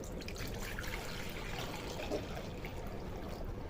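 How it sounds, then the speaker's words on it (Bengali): Water pours steadily into a cooking pot set on the stove for boiling bamboo shoots, a continuous close splashing rush with no talk. "কিছুটা জল দিয়ে দিলাম।"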